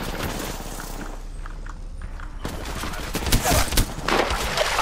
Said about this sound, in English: Lifeline's shotgun pushing me.